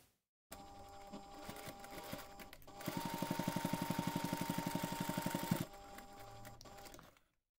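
A sewing machine basts fabric strap pad panels together, with a fast, even mechanical stitching rattle running close and steady for a few seconds between quieter handling noises.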